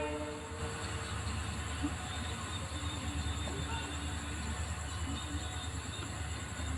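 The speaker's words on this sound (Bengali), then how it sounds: "বামনহাটের উদ্দেশ্যে যাচ্ছে সাত কোচ যুক্ত ট্রেন" A seven-coach passenger train bound for Bamanhat runs past at night, a steady rolling rumble with a faint tonal whine, heard from a moderate distance.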